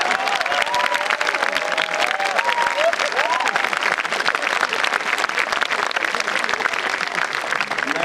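Loud, dense audience applause fills a hall at the Wellness Con-2019 valedictory function. It is sustained and even throughout, with crowd noise and a voice briefly audible early on.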